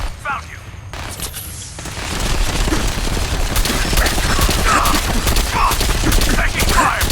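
Sustained gunfire in the Fallout 4 video game, a loud dense fusillade of rapid shots that builds after the first couple of seconds and keeps going, with voices shouting over it.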